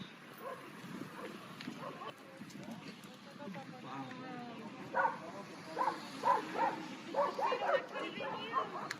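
Several street dogs bark and yip in short bursts at a distance in Cusco, mixed with background chatter and street noise.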